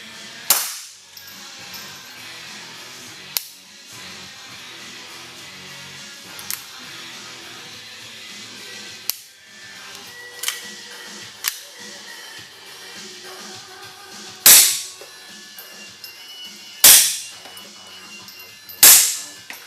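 Suppressed 1911-22 pistol fitted with a Silencerco Sparrow and firing Gemtech subsonic ammo: about nine single shots at irregular intervals, each a sharp muted crack. The last few are noticeably louder.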